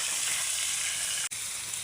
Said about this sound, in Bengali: এখন হচ্ছে মাছগুলো ভালো করে আগে ভেজে নেব।